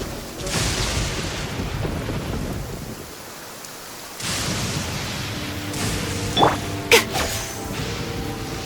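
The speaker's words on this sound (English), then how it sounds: "Many people dread the sound of thunder." Thunder rolling through a rainstorm in the video game Genshin Impact, loud rumbling over steady rain, easing briefly before swelling again with a couple of sharp cracks near the end.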